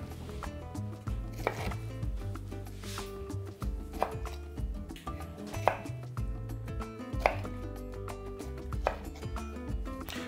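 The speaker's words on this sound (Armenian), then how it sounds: "Մանր կտրատում ենք։" Canned pineapple slices diced small on a board, a brisk run of knife taps against the wood, close and fairly quiet, with a faint low hum of music behind.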